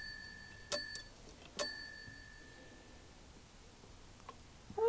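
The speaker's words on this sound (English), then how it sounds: "Let's ring the doorbell." Two short bright electronic chimes ring out, the doorbell of a Fisher-Price Play Family House toy sounding twice with a pause between, then quiet room noise.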